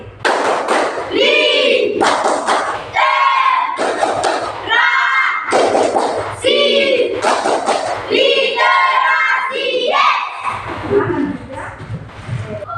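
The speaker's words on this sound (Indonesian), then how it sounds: "Sekali lagi ya, tepuk literasi." Schoolchildren repeat a rhythmic classroom clapping chant, sharp group claps punctuating loud unison chanting voices in regular bursts, close and lively, ending with a quieter stretch.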